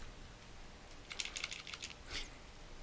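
Quiet keystrokes on a computer keyboard while entering a command in Mathematica, a short run of about eight light clicks in quick succession followed by one slightly heavier press, with no voices.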